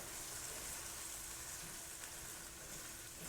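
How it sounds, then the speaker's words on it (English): Taco meat with Ro Tel and cilantro simmering in a pan on low heat, giving a soft, steady bubbling sizzle that stays even and fairly quiet throughout. "There's plenty of juice from the Ro Tel and from the meat that it can sit here and simmer a little bit"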